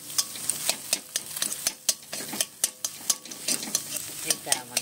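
An egg being fried and broken into small pieces in a pan, with rapid, rhythmic spatula knocks and scrapes over a continuous sizzle, close and fairly quiet, with nobody speaking.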